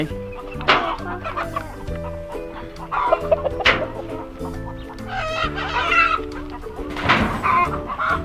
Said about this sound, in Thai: นี่ก็เป็น ไก่เนื้อครับ